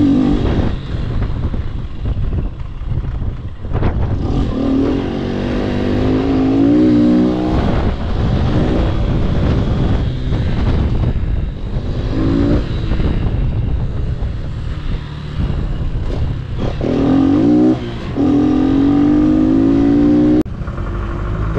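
A Honda Wave S motorcycle engine revving repeatedly, rising and falling in strong, close bursts with throttle blips and a droning exhaust, no talk.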